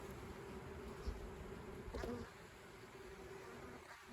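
Honey bees hum steadily across the frames of a hive, a dense close buzz that holds throughout with a brief louder swell near the middle.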